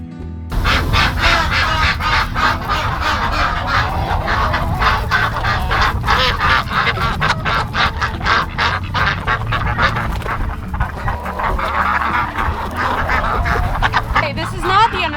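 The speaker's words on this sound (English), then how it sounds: "This is an escaped duck that I'd have to go check." An escaped duck on a farm quacks loudly and almost continuously in a rapid string of honking calls, close to the microphone, with a person talking underneath.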